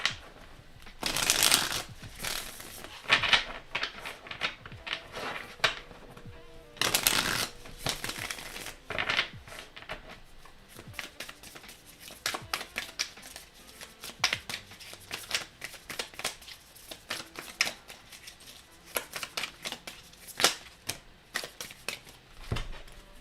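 Tarot deck being shuffled by hand, bursts of crisp riffling card flutter and soft slaps recurring irregularly through the take, close and fairly loud with no talk.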